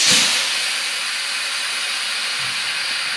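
Steady hiss of compressed air bleeding off from lowboy trailer brake chambers, a loud continuous rush that starts with a brief burst and then holds level for several seconds, close by and with no talk over it.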